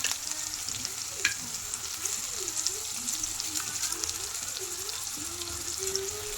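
Seasoning seeds crackle in hot oil alongside dried red chillies, green chillies and onion, a close, steady sizzle with occasional stirring scrapes and faint pops, no talking.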